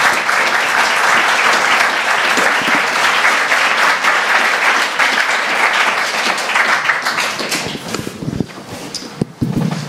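Sustained applause from a large crowd at an architecture lecture, dense clapping that holds steady, then thins out with a few scattered claps near the end.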